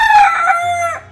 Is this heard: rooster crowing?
yes